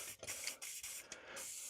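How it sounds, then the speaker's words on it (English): Aerosol spray hissing onto the bolts of a Mini Cooper S Cabrio rear subframe during DIY repair, several close bursts of broadband hiss with short pauses between them, no talking. "So let me start to spray these bolts as well."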